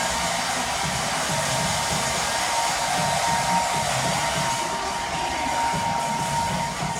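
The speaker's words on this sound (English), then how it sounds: "But the more you use the hair dryer, it kind of melts it." A hair dryer blows continuously with a steady, loud, airy whir that holds an even level throughout.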